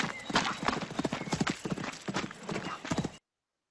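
Horse hooves clip-clop in a quick, steady rhythm from start to finish, loud and close, with a whinny mixed in and no talk over them.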